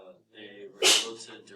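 A single sharp sneeze bursts out in a classroom during a calculus exam review, loud and close, with people talking before and after it.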